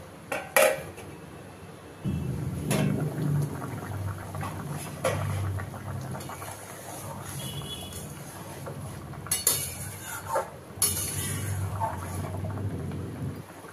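Metal pot and utensil clatter while hilsa fish goes into a simmering Bengali mustard curry and the pot is covered, with a few sharp clinks over a steady low bubbling rumble close by.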